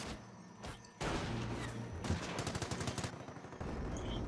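Dense automatic machine-gun bursts and scattered gunshots from a Company of Heroes battle, with a mortar and MG team trading fire amid infantry; loud, continuous rattling with sharp cracks, no talking.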